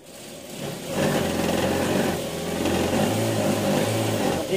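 A sewing machine stitches a cushion cover, its motor running steadily and close with a fast mechanical whir that rises after a short quieter start and continues without pause.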